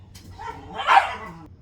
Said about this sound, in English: Had to yell at my dogs.